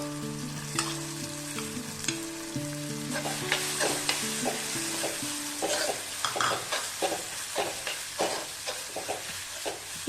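Crushed ingredients for Kerala-style rasam sizzle loudly in hot oil in a pan, with steady frying hiss broken by repeated scraping stirs of a utensil, close and without talk.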